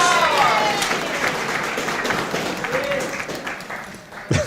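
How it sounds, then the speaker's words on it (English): A crowd at a pool match in the final of the 2022 ACT Optical Kings Cup applauds loudly and steadily, sustained clapping filling the room with a commentator's voice running underneath. "It's nearly the loudest the crowd's been during the middle of an hour"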